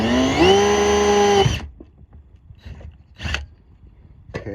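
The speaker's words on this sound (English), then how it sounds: "Try to keep my drill at a 90-degree angle" Power drill boring a hole in a door to fit a Coleman 17B friction hinge, a loud whine that spins up and holds steady for about a second, then cuts off, leaving faint scrapes and handling knocks.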